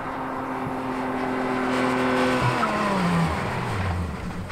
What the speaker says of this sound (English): And the sports car stopped in 85 feet.